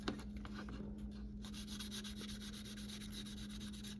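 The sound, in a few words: sanding a plastic Tamiya model car body with sanding pads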